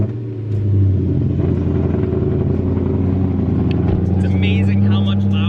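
A BMW E92 M3 fitted with a newly installed supercharger rumbles loudly nearby, its engine note holding a deep steady drone with slight rises in revs, plus some light clatter and faint voices in the background.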